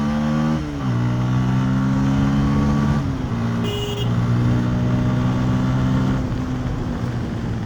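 A Bajaj Pulsar N160 motorcycle with an already loud exhaust revs up in a workshop, its engine note climbing and dropping across several throttle blips before settling into a high, steady drone, close and loud with no talking.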